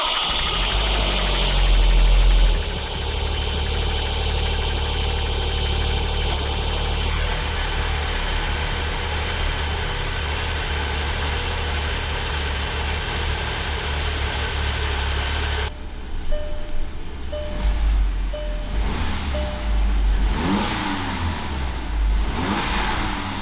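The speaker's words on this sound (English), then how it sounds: "when you hit the throttle, RPM gauge will go up quicker and come down quicker" A Volkswagen Golf R engine fitted with a throttle body pipe runs loud and close, droning at steady revs and then blipping up and down in quick throttle rises and falls, with no talk.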